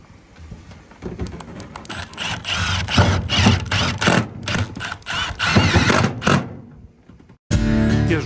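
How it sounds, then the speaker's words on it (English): Small stitching screws being driven through metal flashing on a shed roof, heard as close, uneven whirring and ratcheting bursts from a power driver with brief pauses between them. "these little stitching screws screw down, hold them in place, and hold this flashing in place as well."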